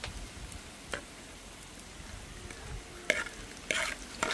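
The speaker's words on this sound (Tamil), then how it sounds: "போட்டு நல்ல எண்ணெயிலேயே வந்து பிரட்டி விடுவேன்." Beetroot and softened onions are stir-fried in oil, with a low sizzle underneath and scattered scrapes and taps of a spoon against the pan, growing busier toward the end.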